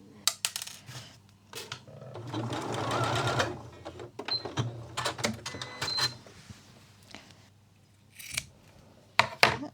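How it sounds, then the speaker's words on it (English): A domestic sewing machine stitching down the end of binding on a high-street style dress, heard in several close, steady whirring bursts separated by pauses, with small clicks and fabric handling between runs. "And then I just sew down that little end there."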